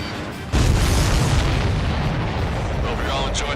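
Heavy explosions and booming blasts roar through an Ace Combat 7 air-combat battle, a dense, sustained rumble that swells into a thunderous barrage partway in and keeps rolling with scattered bursts.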